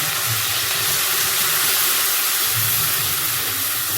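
Ginger and chili paste sizzles in a pan after a little water is added, giving a steady, close hiss that holds evenly throughout with no talking.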